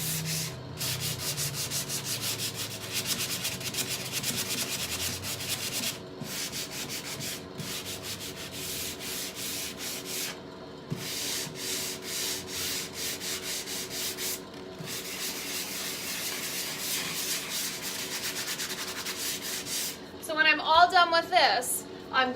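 Sanding painted wood by hand for a weathered look, a steady rasping rub in repeated long strokes with brief pauses, close and continuous, with a voice talking near the end.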